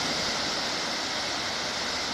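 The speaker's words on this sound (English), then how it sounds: "And we got a nice little patch of white water" Small patch of white water tumbling in a brook where it meets a river, a steady close rush of splashing water without pause or voices.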